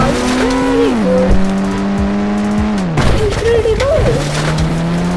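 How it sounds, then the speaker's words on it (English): White Toyota Fortuner driving in the Indian Bike Simulator game, a loud continuous engine drone that rises and falls as it shifts and accelerates, with someone talking excitedly over it. "Starting and driving the car"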